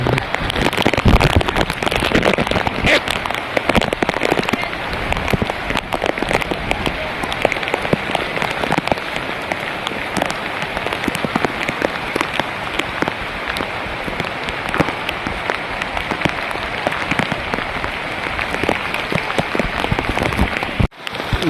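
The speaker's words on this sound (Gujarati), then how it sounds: "અત્યારે જો વરસાદ ચાલુ છે" Steady rain pours down, a dense continuous patter of drops on surfaces lasting throughout.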